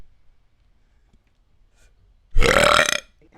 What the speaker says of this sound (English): I just burped into mic on a multiplayer server